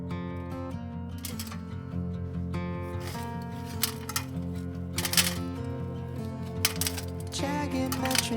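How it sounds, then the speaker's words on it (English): Typewriter keys clack in an irregular, jagged rhythm over a sustained, loud tonal music bed, with sharper bursts of keystrokes scattered throughout. "Jagged metronome of typewriter keys."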